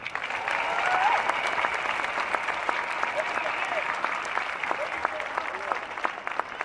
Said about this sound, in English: Give them a hand clap